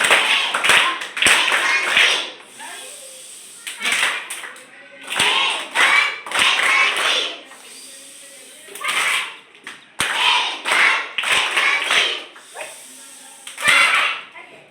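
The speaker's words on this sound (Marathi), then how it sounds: "असा हे फटाका टाळी आहे" Sharp, loud hand claps done in a firecracker style burst out in rapid clusters, separated by short pauses, with bursts of voices between the rounds.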